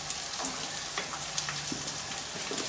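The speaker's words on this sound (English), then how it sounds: "I'm going to start sealing the fish." Sea bass fillets searing in hot olive oil in a frying pan give a steady, close sizzle with faint crackles and a few small clinks, with no voices.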